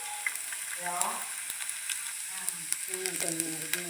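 Garlic drops into hot oil that already holds browned spice powder, raising a soft, steady sizzle with a few light stirring clicks while a voice talks over the frying.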